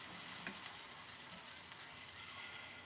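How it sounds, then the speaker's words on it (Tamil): Tomato dosa batter hitting a hot griddle gives a steady, soft sizzle with faint crackle throughout, fairly quiet and close, with no voices. "இப்போ கொஞ்சம் கொஞ்சமாக மாவை ஊற்றி நல்லா"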